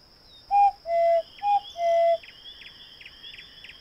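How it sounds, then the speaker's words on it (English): Lily voices an owl call in the video game Edna & Harvey: four clear hooting whistles in two pairs, loud and close, followed by faint chirping. "Garrett didn't seem to hear Lily's owl call at all"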